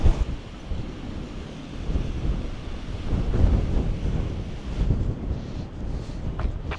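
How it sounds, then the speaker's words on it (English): Strong wind buffets the microphone in loud, rumbling gusts that rise and fall, with a rushing sound like surf beneath it, near the Baltimore Key Bridge wreckage. "Why is it so windy?"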